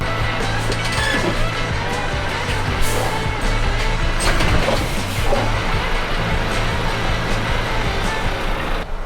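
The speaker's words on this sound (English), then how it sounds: "it gets the wheel rolling to about 5 miles an hour, and then you have to put your foot on the brake" Truck wheels turning on an MOT rolling-road brake tester, a steady loud mechanical rumble and whir with low droning tones, continuous for the whole stretch.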